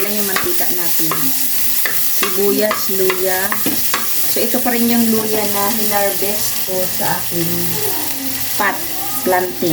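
Chopped onion and ginger fry in a small amount of cooking oil for a chicken curry, with a steady sizzle and repeated stirring scrapes throughout.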